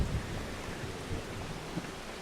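Heavy rain pours in the farming video game Farming Simulator 25, a broad, rushing wash of noise with soft low rumbles, steady and fairly close.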